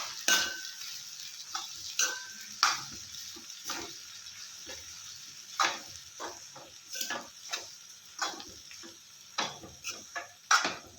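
Puffed rice stirred with oil in a pan, a series of irregular scraping and rustling strokes of the spatula over a faint sizzle, close and fairly quiet, no voices.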